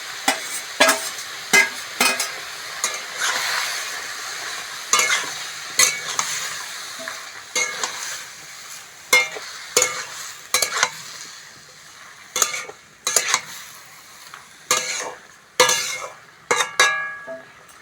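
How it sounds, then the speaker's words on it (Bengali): Vegetables fry with spices in a pan for a cabbage curry, a soft steady sizzle broken by frequent sharp scrapes and clinks of a spoon stirring against the metal, irregular and close. "মশলার সঙ্গে সবজিগুলো ভালো করে ভেজে নেব।"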